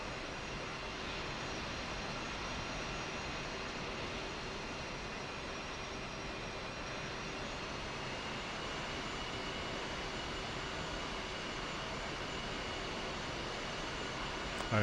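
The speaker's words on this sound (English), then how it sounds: "Looks like we're taxiing for takeoff by a couple, I guess A310s." Steady broadband jet aircraft engine drone heard from inside the cabin, A310s taxiing for takeoff, continuous and unchanging roar with no talk over it.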